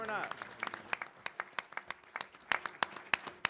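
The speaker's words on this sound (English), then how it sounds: "Everyone gets a round of applause" Audience at an Illinois Republican gubernatorial primary debate claps briefly, with scattered individual handclaps rather than dense applause. Fairly quiet and distinct, heard on its own.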